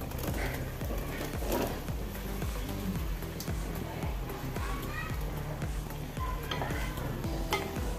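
Masala kozhukkatta, soft rice-flour dumplings, being stirred in a pan of boiling water, with steady repeated scraping strokes over a continuous bubbling sizzle, close and fairly loud, with no talk.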